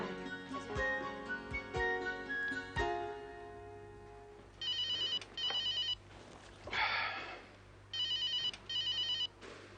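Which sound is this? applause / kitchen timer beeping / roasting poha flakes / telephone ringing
telephone ringing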